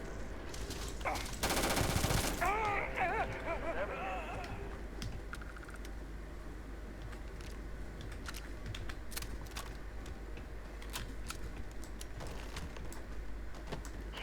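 Gunfire in the Starfield video game, a dense burst of rapid automatic shots early on, followed by scattered sharp individual pops and clicks over a low steady background hum.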